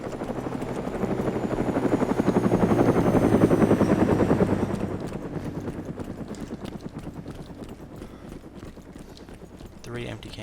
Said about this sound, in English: chopper's coming straight for me at speed.